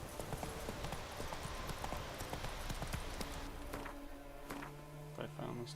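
Hooves of Roach, a horse in The Witcher video game, pounding in a fast galloping clip-clop rhythm, close and continuous, with game sounds and tones joining toward the end.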